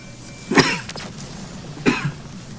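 Two dry coughs about a second apart, each short and fairly close, over a quiet background.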